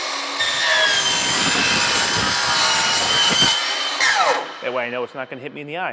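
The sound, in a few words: saw with Diablo Steel Demon carbide blade cutting aluminum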